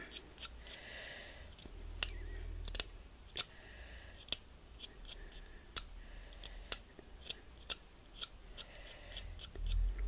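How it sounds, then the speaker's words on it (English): A blade shaves along a handmade craft pencil to round off its tip, giving sharp, close scraping clicks at irregular intervals over a quiet background, with no talk. "Just shave it along till you've rounded it off a little bit."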